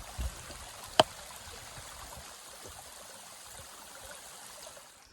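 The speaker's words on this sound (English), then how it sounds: "Oh man, that's a good water source." A mountain stream trickles along the Appalachian Trail in the Smokies, a soft, continuous watery hiss close by with a single sharp knock early on and no talking.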